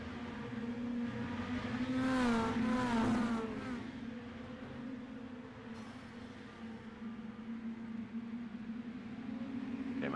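Mini stock race cars lapping in an iRacing league race, engines droning steadily with a couple of rising revs as cars pass early on, then a sustained, fairly loud engine hum continuing to the end.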